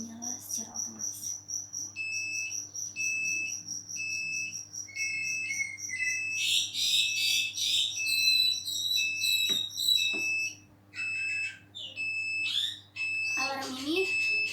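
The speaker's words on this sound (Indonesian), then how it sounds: "Kemudian alarm akan menyala secara otomatis." An IoT water level monitoring system's alarm goes off, sending out a rapid series of repeated high electronic beeps in bursts, with some irregular chirping tones mixed in partway through.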